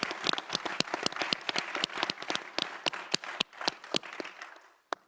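Audience applause at a policy discussion on the US-India civil nuclear agreement, dense clapping from a room of people that thins out and fades toward the end, with a few sharp isolated claps standing out near the close.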